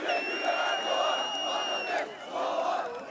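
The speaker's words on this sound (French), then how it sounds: "Et en réclamant des pommes de terre et des oignons." Crowd at a Turkish opposition election rally chanting demands for potatoes and onions, massed voices rising and falling in loud rhythmic surges with a brief dip before the chant swells again.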